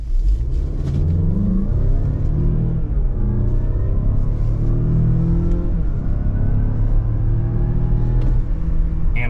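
A 2025 Mazda CX-5 Turbo in sport mode pulls hard from idle on a private road, its engine note climbing steadily through the gears with brief dips at each shift, loud and close from inside the cabin.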